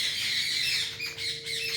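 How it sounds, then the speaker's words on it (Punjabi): Birds squawk noisily and continuously, a harsh overlapping chorus with no pauses, fairly close and loud. "ਪੰਛੀਆਂ ਦੇ ਵਿੱਚ ਚੀਕ ਚਿਹਾੜਾ ਜਿਹਾ ਪਿਆ ਹੋਇਆ"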